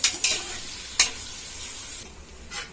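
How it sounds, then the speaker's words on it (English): Two chopped onions fry in a pan, giving a soft, steady sizzle broken by a few sharp scraping stir strokes near the start and middle, moderately loud and close, with no talking. "2 onions chopped up. Now I will fry it."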